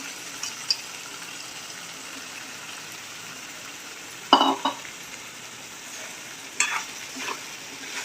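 Finely chopped bitter gourd frying in a pan, a low steady sizzle with a couple of brief scraping stirs and clatters midway and near the end, close and without talk.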